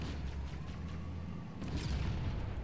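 A Scorpion tank cannon in Halo: Combat Evolved fires amid a low rumbling battlefield, with muffled booms under a steady drone that grows slightly louder near the end, no talk.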